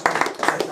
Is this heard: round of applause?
yes